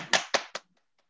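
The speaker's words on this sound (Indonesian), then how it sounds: "Tepuk tangan." Three sharp, close hand claps to welcome a speaker, spaced evenly over about half a second, followed by near silence.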